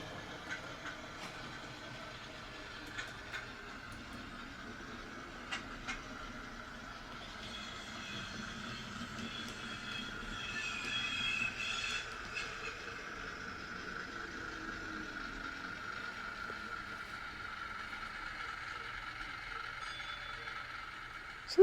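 A small model train rumbles and clatters steadily along the track at low volume, with faint mechanical clicks and a gradual swell as it passes.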